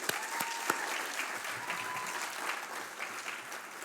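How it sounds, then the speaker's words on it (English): Audience applause at a chamber of commerce luncheon held in a private house, a steady wash of clapping from many hands holding level for about four seconds, with a few sharper claps near the start. "let's give her a round of applause, if you would"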